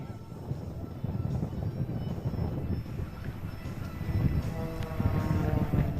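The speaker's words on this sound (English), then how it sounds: "As he starts down with full power, with a new airplane very quickly getting back into target speed." A new airplane dives at full power during the Hill Air Show 2024, a rough broadband engine roar that builds in loudness toward the end, heard from the crowd's distance.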